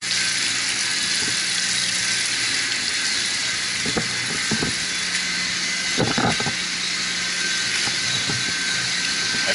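Water from a chiller pump pours steadily onto a basement floor, giving a continuous loud rushing hiss with a few splashy surges in the middle.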